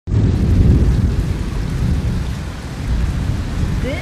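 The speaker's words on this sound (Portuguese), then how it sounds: "Chuva! Até com trovão relampejando." Heavy rain pours steadily in a dense roar with low thunder rumbling beneath it, loud and close throughout a stormy downpour in a Brazilian neighborhood.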